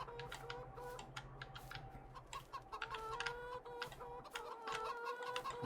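Chickens in the farming video game Farming Simulator 22 cluck and squawk in a busy, overlapping chorus, with repeated short calls close by against a low steady hum, and no talking.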